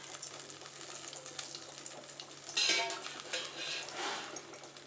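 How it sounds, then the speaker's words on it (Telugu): Chopped onions and green chillies tipped into hot oil in a pan that earlier held prawns, with a burst of sizzling and clattering at the moment they go in, then steady frying hiss and a few utensil clinks. "రెండు తరిగి పెట్టుకున్న ఉల్లిపాయలు, పచ్చిమిరపకాయలు వేసారండి"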